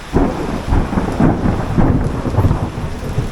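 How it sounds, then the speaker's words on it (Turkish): Loud thunder rumbles through a storm with heavy rain, deep rolling booms swelling and fading repeatedly over a steady downpour, close and powerful with no talking. "Şimşekler çakıyor."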